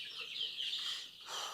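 Chicks and chickens at a poultry business make a faint, continuous high peeping and clucking chatter that runs without a break.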